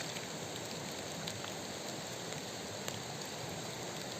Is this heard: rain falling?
yes